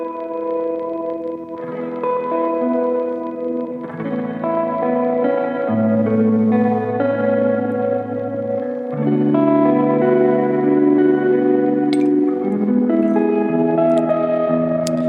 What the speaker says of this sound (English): get these really pretty glitchy textures out of the reverb